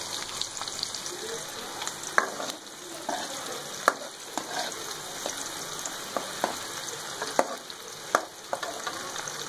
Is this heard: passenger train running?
no